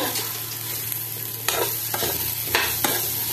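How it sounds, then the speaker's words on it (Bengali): Potato curry is stirred in a hot pan, a spatula scraping steadily through the pieces over a continuous sizzle and fry, with a few sharper scrapes standing out near the end. "আবার একটু নাড়াচাড়া করে নিব"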